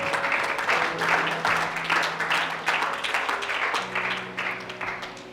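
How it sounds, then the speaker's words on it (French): A church congregation claps for the Lord in a steady, rhythmic beat of many hands, fairly close and loud, with sustained tones underneath and no talk over it. "want you to clap for the Lord."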